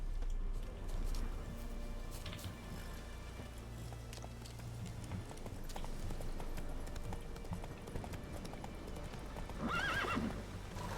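Roach the horse from The Witcher trots with steady clip-clop hoofbeats, then gives a loud neigh near the end, heard over ambient game background with no talk.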